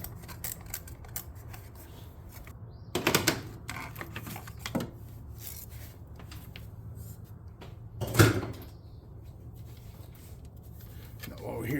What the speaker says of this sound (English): Ratcheting wrench to the rescue.